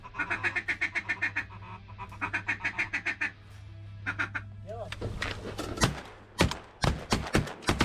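A flock of pintail ducks passes overhead during a hunt in Arkansas, giving repeated rhythmic quacks in bursts, followed by several loud shotgun blasts.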